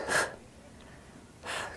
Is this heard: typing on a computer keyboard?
no